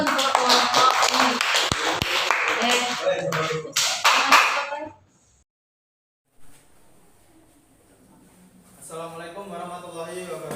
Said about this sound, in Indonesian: Ya, berikan aplaus dulu untuk kelompok ini.